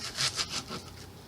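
A knife slicing a vegetable on a cutting board, a few quick rasping strokes close by, fading into softer scraping.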